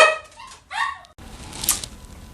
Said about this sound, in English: sorry, don't mind the dogs.